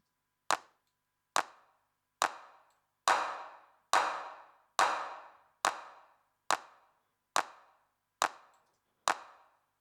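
A single clap sample repeats about eleven times at an even pace, each sharp hit followed by a reverb tail that swells longer in the middle repeats, isolated in a music production setup with no voice.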